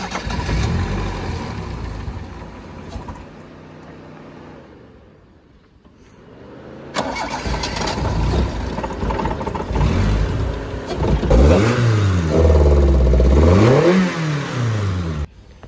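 An old big-body Toyota Corolla engine runs rough, fades down, then fires back up and revs repeatedly in loud rising and falling surges, close to the listener.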